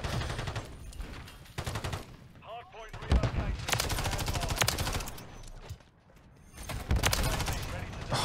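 Gunfire in Call of Duty Modern Warfare 3 hardcore hardpoint multiplayer: sharp bursts of rapid shots and automatic fire in several clusters, fairly loud, with someone talking over parts of it.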